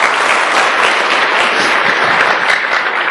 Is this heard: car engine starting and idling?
no